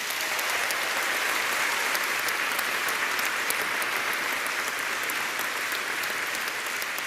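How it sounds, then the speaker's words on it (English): Sustained audience applause fills a graduation ceremony hall, a steady dense wash of clapping at even loudness throughout with no voices over it. "Please, everyone, give her a round of applause"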